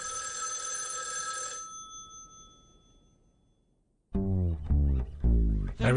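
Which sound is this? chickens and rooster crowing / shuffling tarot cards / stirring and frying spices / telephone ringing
telephone ringing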